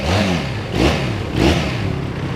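A 2018 Benelli Leocino 500 Trail motorcycle engine is blipped twice in quick succession, each rev rising sharply and falling back to idle, close and loud.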